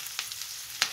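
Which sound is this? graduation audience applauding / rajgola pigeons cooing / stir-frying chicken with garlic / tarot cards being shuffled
stir-frying chicken with garlic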